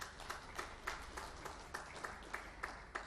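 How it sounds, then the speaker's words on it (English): Faint applause from a lecture audience thanking a climate science professor, heard as a quiet, steady run of claps at a regular beat. "One last round of applause for Professor Dewey."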